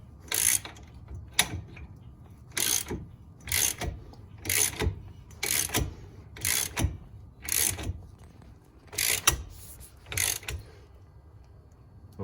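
A ratchet wrench tightens a nut to draw a new wheel stud into a vehicle spindle, giving about ten short bursts of rapid clicking separated by brief pauses, close and clear.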